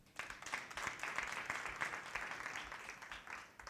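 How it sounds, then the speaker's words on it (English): An audience at a women's symposium breaks into brief applause, quiet and somewhat distant, building quickly and tapering off near the end. "Please give yourself a hand of applause."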